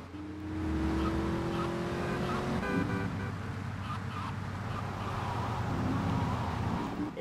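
Car driving in GTA Vice City Remastered, a steady engine drone with revving and gear shifts, a brief horn-like tone and tire noise, loud and continuous throughout.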